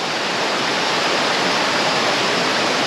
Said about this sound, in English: And there's the water working its way down through the rocks.